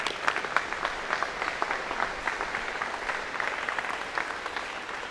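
A steady round of applause rises from a large convocation crowd at an engineering college ceremony, many hands clapping in a continuous, moderately loud wash from start to finish.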